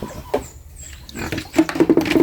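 Pigs grunt in a rough, repeated series, louder toward the end, with brief snuffling noises earlier and no talking.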